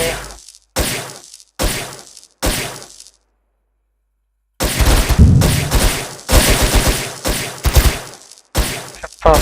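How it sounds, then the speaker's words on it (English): Gamma grenade thrown and exploding in a self-made first-person shooter game, a series of loud, sharp gunfire-like blasts in separate bursts, a pause, then a denser cluster of booming impacts with crackling debris, no talk. "Let's take the Gamma grenade, throw it here."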